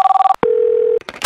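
A new telephone gives a steady dial tone after a short pulsed tone, loud and close, followed by a few quick beeps from the handset.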